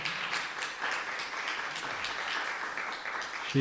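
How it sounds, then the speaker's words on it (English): An audience at a public lecture gives a round of applause, steady full clapping from many hands sustained throughout before a sudden sound at the very end. "can we give a round of applause to her?"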